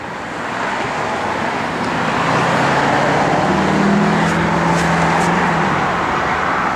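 A 1969 Plymouth Road Runner with a 440 V8, four-barrel carburetor and a mild performance cam idles steadily, a continuous low rumble with a faint rising hum midway, close and alone without talk.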